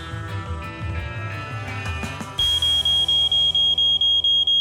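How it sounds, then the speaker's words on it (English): A malfunctioning smoke detector sounds a loud shrill repeating beep, about ten evenly spaced pulses close by, following a stretch of music with no speech. "Code 16, malfunctioning smoke detector"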